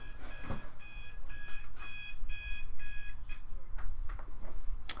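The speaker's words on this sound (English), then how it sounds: "This is my alarm going off." Alarm clock going off loudly, repeating bursts of high electronic beeps in a steady rhythm, over a low background hum.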